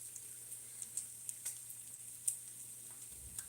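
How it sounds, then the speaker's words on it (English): Soft, steady sizzling of bacon frying in a pan, with faint crackles and pops scattered throughout. "That sizzle smells good."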